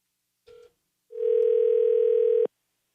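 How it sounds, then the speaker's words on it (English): A telephone dial tone comes off the hook as a call is placed from a live radio studio: a short tone blip, a pause, then a loud, steady unbroken tone held for over a second before cutting off sharply. "we're going to make a phone call"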